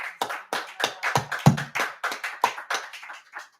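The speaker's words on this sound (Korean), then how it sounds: "우리 하나님께 감사와 영광의 박수 올려드립니다." A congregation at a church service claps in a quick, fairly even rhythm of distinct, close hand claps, about three or four per second, with no talk over it.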